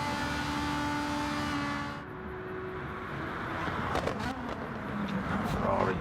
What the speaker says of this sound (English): Ferrari sounding really good.